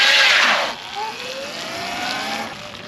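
A Sur Ron electric dirt bike with duct-taped tires spins out in a drift, opening with a loud burst of tire scrub and hiss, then settling into a steady whine and scraping roar with wind noise.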